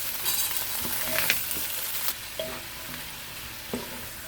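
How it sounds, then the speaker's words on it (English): Bell peppers sauté over medium-high heat in a skillet, giving a steady sizzle with intermittent scraping and clinks of a spatula stirring them; no speech. "we're going to add in the peppers. And we're going to saute these"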